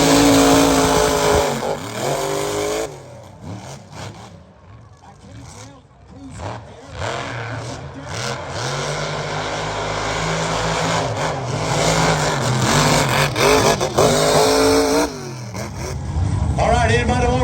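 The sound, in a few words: unlimited mega trucks racing, engines revving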